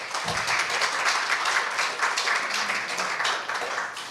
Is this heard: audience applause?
yes